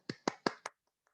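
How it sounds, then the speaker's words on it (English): A small burst of applause at an online Toastmasters club meeting: four quick, close claps, then silence. "Let's give a round of applause for Toastmaster Garda."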